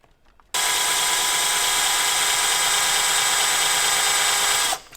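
A power drill boring into the metal case of a NAD CD stereo receiver, starting abruptly after a brief quiet moment and whining loudly and steadily for about four seconds before cutting off, with no talk.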